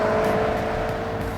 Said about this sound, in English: put it in sport mode so I could hear that exhaust